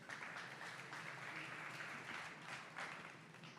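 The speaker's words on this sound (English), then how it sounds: "big clap for everyone" Clapping from an audience at the close of a day-long conference, faint and distant, rising and falling in soft swells for a few seconds.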